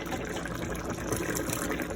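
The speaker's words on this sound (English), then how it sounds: "I'm gonna pour the butter beans in there." Strained canned butter beans are poured into a pot of brown stew chicken foot, a steady wet, gushing pour that stays fairly loud for the whole two seconds with no talking.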